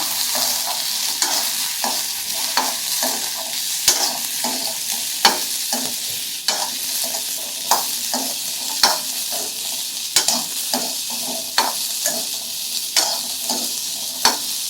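Elephant foot yam sautéing in hot oil, with a steady sizzle and frequent scraping stirs of a utensil against the pan at a brisk, fairly regular rhythm, close and fairly loud, with no voices.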